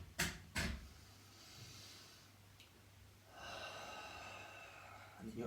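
Breaths taken during a yoga stretch: two sharp, close inhales or snorts at the start, then a soft, steady airy exhale hiss later, faint overall with light room noise between.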